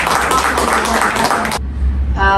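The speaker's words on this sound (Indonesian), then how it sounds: "Kita kasih aplaus dulu." An audience at an Indonesian broadcasting talk show applauds, a dense burst of clapping lasting about a second and a half that cuts off abruptly, followed by quieter room sound and a brief voice.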